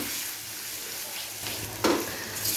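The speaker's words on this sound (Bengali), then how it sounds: "এবারে পেঁয়াজটাকে একটু সময় নিয়ে খুব ভালো করে ভেজে নেব" Onions fry slowly in a pan for a dhaba-style egg masala, a continuous close sizzle with stirring, plus a brief louder scrape near the end.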